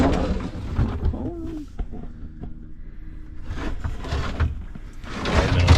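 Under-sink cabinet drawer in a camper van rolls on its sliders and rollers, giving rumbling slides and a few knocks, loud and close, with no talk.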